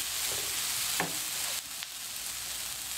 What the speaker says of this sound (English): Give that a quick mix.